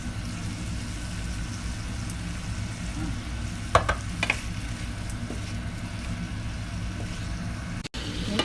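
Chili paste frying with coconut milk over low heat in a pan for a stir-fried curry with crispy salmon heads, a steady low sizzle with occasional clacks of stirring in the middle, no talking.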